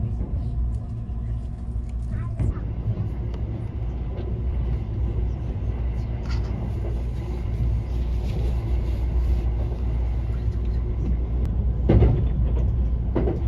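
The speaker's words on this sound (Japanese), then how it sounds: "富士急行線内で JR の普通電車と行き違いました。" A JR 211 series local train passes on the Fujikyu line: a low, continuous rail rumble heard from inside a train, with a few sharp clatters and a brief louder rush near the end.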